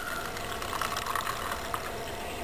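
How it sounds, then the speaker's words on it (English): Water filling a container of small dehydrated balls, a steady soft gushing and splashing stream at moderate distance, continuous without a break and with no voices. "Simply by filling that with water."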